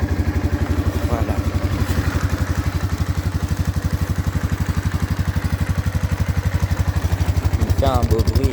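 A quad bike engine idles steadily close by, a fast even low thumping pulse that runs throughout, with brief voices talking over it.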